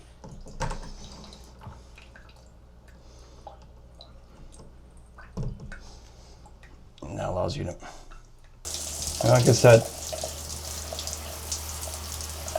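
Water running from a Moen shower faucet's handheld sprayer, a steady hiss that swells loudly in the final seconds, while someone talks throughout and small handling clicks and knocks occur earlier.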